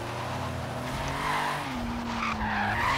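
Tires skidding as a car drifts in the racing game Forza Horizon 3, a continuous close squeal with a sustained engine drone underneath, steady and loud for the whole stretch.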